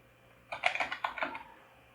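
A short burst of typing on a computer keyboard, about a dozen quick, close keystrokes in an uneven rhythm, heard alone in a quiet room.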